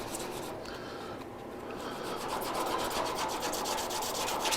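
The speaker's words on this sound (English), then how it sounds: "I'm just sanding that in a little bit" Body filler on a car being sanded by hand for rough shaping, a steady continuous rubbing and rasping that grows slightly louder and more rhythmic toward the end, close up with no talking.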